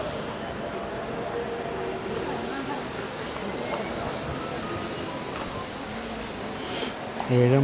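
Intercity Express train pulling away from a station platform at Chalakudy, a steady rumble with a faint sustained wheel squeal throughout, and a brief louder burst near the end.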